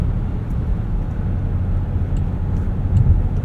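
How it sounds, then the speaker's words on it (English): Inline-six engine of a 2024 Range Rover Velar P400 running at a steady low rumble, a smooth sustained drone heard from inside the cabin with no talk. "Inline 6 sounds good."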